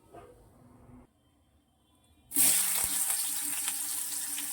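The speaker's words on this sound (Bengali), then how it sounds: "এবারে প্রথমে পেঁয়াজটা তেলে একটু নাড়াচাড়া করে নিয়ে" Chopped onion drops into hot oil and bursts into a loud, close sizzle after a quiet start with faint kitchen handling. The frying hiss continues strongly as it is stirred.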